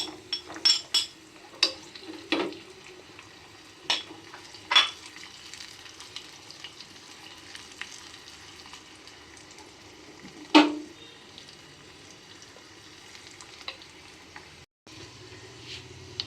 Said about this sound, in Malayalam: പശു നെയ്യ് കുറച്ച് ഒഴിച്ചിട്ടുണ്ട്. ഇതിലേക്ക് നമുക്ക് അണ്ടിപ്പരിപ്പ് ചേർത്ത് കൊടുക്കാം.